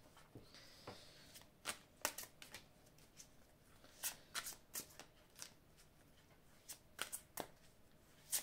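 Tarot cards are shuffled close up in a quiet room, giving a series of soft papery riffles and flicks in irregular bursts with brief pauses between them.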